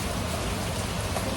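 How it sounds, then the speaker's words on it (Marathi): Heavy rain pours down in a dense, steady hiss of drops hitting surfaces, loud and unbroken throughout the short stretch with no voices. "तरी हा पाऊस बघा"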